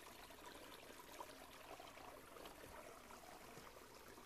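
A small brook babbles into Mulkkujärvi lake, a quiet, continuous trickle of water flowing over stones, soft and steady with no voices.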